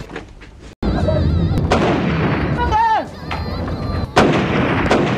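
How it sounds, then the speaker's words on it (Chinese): Loud gunfire in a Chinese crime film, a sharp blast followed by two more heavy shots over a busy background, with a brief tonal whine between them. "白宝山在边疆宾馆肆无忌惮地开枪射击"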